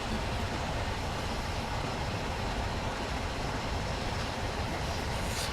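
Flying Scotsman steam locomotive in a train simulator game on the London to Brighton line, crossing a bridge: a steady, loud, continuous rumble of rolling wheels and running gear that holds through the whole stretch with no voices.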